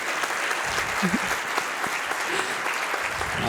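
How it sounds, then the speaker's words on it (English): An audience at a mountain biking summit conference claps steadily throughout, a dense, even wash of applause that stays loud from start to finish. "Big applause to Roxy for a fantastic presentation."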